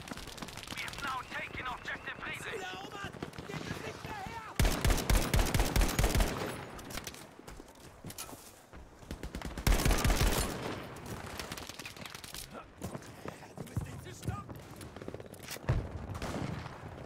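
Gunfire from a teammate in Battlefield V, with rapid bursts of shots rattling out in several clusters, the loudest around the middle, mixed with a player talking over the game sound.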